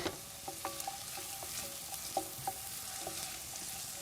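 Finely chopped onion sizzles gently in a pan over low heat, a soft steady frying hiss with scattered small pops and stirring clicks.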